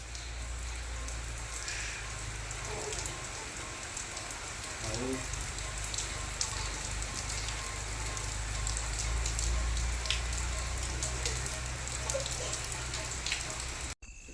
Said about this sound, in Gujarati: તમે મિત્રો જોઈ લો કેટલો બધો વરસાદ આવે છે.